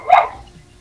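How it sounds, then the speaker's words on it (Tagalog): A single sharp dog bark, close and fairly loud, fading quickly into quiet. "maingay po kasi yung tahol ng aso"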